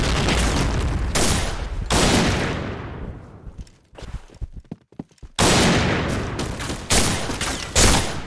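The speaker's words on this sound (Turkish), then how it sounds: "Bomba atıyorum!" Game combat in Point Blank: loud bursts of gunfire and blasts open the clip, a grenade going off among them, then scattered sharp shots and footsteps before heavy sustained firing returns near the end.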